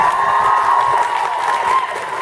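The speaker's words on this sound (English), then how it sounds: "ladies and gentlemen, round of applause, Mr. Jason Mann" Applause and cheering fill the room at a convention panel, a dense, continuous crowd sound of clapping with a bright ringing tone throughout.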